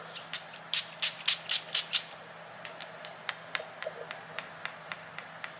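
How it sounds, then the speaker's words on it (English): A burst of six quick spritzes of perfume onto a paper sheet, close up, followed by a series of lighter taps and clicks. "So I'm gonna spray it on the sheet so I can see what it's talking about."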